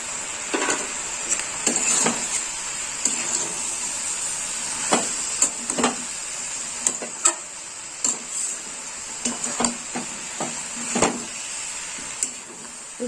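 Mixed vegetables in a yogurt curry for dahi sabji are stirred in a pan, with a spoon scraping and clinking against the metal in irregular strokes over a steady soft sizzle, close up and with no talking.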